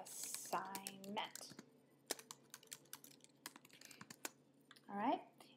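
Someone types on a computer keyboard in a quiet room, a quick irregular run of light clicks and taps. A person speaks briefly at the start and again near the end.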